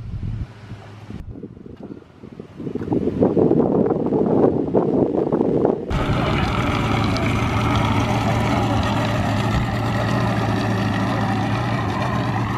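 Boat powered by an original Mercury 65 hp outboard motor pulling away from a launch ramp, a steady rumbling drone that swells and then holds loud, with wind buffeting the microphone throughout.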